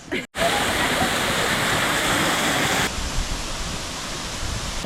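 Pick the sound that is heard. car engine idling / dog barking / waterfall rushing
waterfall rushing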